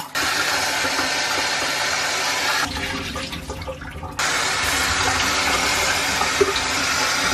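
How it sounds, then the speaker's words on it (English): Water gushes into a reptile tank for a crocodile skink enclosure as it is filled and rinsed, a loud, steady rushing flow that briefly drops and softens midway before surging back at full strength, with no talking. "We're going to fill it again and just keep rinsing it like this."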